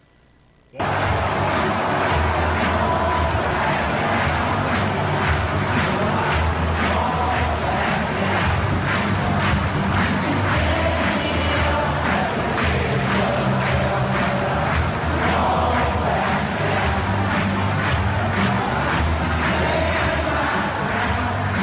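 A packed Gainesville Gators football stadium crowd roars and claps in rhythmic unison, a dense, steady wall of cheering that kicks in abruptly and holds at full volume throughout.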